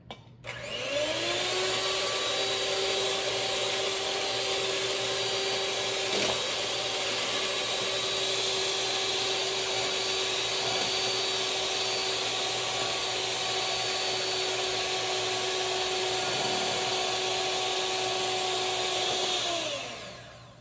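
An electric mixer whips egg whites for coconut macaroons. Its steady, loud motor whine starts after a second, holds evenly for about nineteen seconds and then winds down, with no talking.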